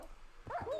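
Dog barks and yips in Minecraft, a short pair of sharp bursts close and fairly loud at the end, after a stretch of quiet background.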